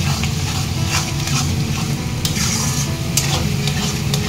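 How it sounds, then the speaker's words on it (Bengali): Ginger-garlic paste stir-fried for Bengali-style chicken kasha sizzles loudly and steadily up close, with repeated scraping stir strokes through the hiss and no talking. "আমি আদা রসুন পেস্টটা দিয়ে দিচ্ছি। ভালোভাবে আমি কষাতে থাকব।"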